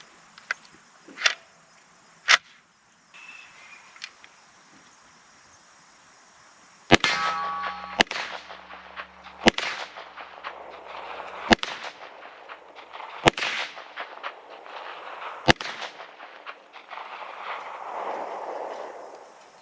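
A Pioneer Arms PPS-43C, a civilian 9mm version of the WWII submachine gun, fires at an outdoor range: about ten sharp, loud single reports at irregular intervals, each ringing out briefly.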